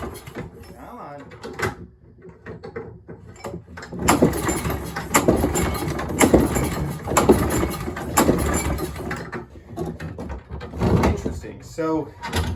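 A Toro push mower's small engine tries to start after fuel is added, sputtering and catching in rough bursts that come and go over several seconds, with a person talking throughout.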